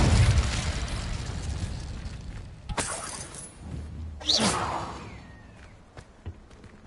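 An Incendio fire spell cast in Hogwarts Legacy on PS5 erupts with a loud whooshing burst, followed by a second flaring blast and a fading crackle over a steady game ambience.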